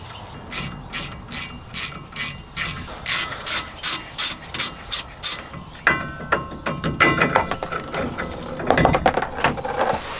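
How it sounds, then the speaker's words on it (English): A socket wrench ratcheting a driveshaft bolt during a driveshaft replacement with a snapped U-joint, a run of steady rhythmic clicking strokes followed by quicker, irregular ratchet clicks and metal handling, close and clear. "so I can just use the freaking socket wrench rather than turning it a bunch of times with the other one"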